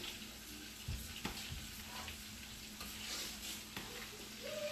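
Chili stirred in a cooking pot, a steady soft sizzle and bubbling with a few faint scraping knocks of the spoon against the pot, heard close and without talk.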